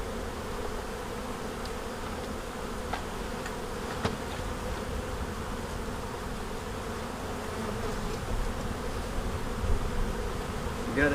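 Honey bees buzz in a bee yard during a March hive inspection, a dense continuous drone of many insects close by, with a few sharp clicks and knocks and no speech.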